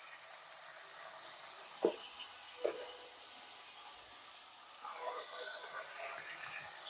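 A spice paste of garlic, cumin, turmeric and chili powder sautés in a pan for pickled eggplant, giving a faint, steady sizzle with a few soft clicks of stirring.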